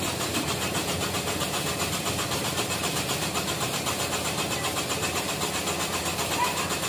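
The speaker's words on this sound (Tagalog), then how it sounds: "Pagkatapos ay pinaandar na namin ulit." A Ford Everest Titanium's engine is cranked repeatedly without catching, a loud, steady, pulsing churn that runs unbroken for several seconds, close by.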